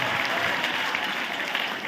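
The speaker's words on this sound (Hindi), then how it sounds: "ताली बजाओ," Audience clapping at a school annual function, a thick, steady wash of many hands close and loud, with voices faintly mixed in.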